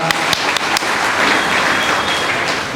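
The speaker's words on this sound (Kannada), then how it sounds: "ಎಲ್ಲ ಪೇರೆಂಟ್ಸು ದಯವಿಟ್ಟು ಎಲ್ಲ ಶಿಕ್ಷಕ ವೃಂದದವರಿಗೂ ಒಂದು ಜೋರಾಗಿ ಚಪ್ಪಾಳೆ ಹೊಡೆಯಿರಿ" Parents at a school gathering give the teaching staff a loud round of applause, a thick, continuous roar of many hands clapping close by with a few sharper claps standing out at the start.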